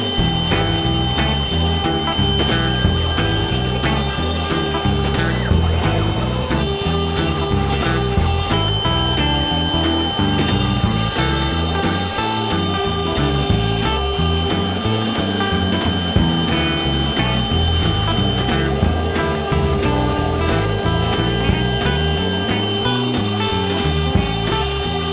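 A CNC machine carves maple leaves from maple wood with a steady, loud, continuous whine and grinding hum that holds unchanged throughout with slight rhythmic variation, no voices.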